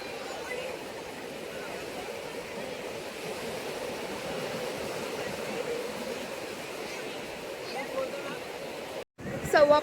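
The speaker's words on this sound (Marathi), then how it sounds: "समुद्राच्या लाटा आणि मनाची शांतता" Steady broadband wash of sea waves at Aksa beach on a Sunday evening near sunset, continuous and fairly loud, with a brief dropout and a louder burst at the very end.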